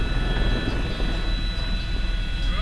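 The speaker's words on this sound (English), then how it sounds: "This is the quietest helicopter of its class in the world." Helicopter flight over Niagara Falls, a loud continuous engine and rotor roar heard from inside the cabin, steady and dense throughout.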